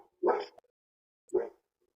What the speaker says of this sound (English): So both my doggies, I got 2 80-pound pit bulls.